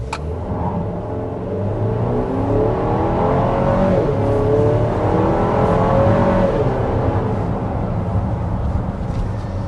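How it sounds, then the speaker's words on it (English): The engine of a 2025 Buick Enclave Avenir pulls hard at high RPM, a loud, sustained drone heard from inside the cabin, rising steadily in pitch with no talk over it. "when you really stand on it and get to those high RPMs, it certainly does seem quieter than its 2 siblings"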